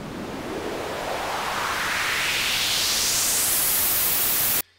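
A steady hiss of white noise in Logic Pro X sweeps gradually upward in brightness over four bars, building like a riser before cutting off abruptly.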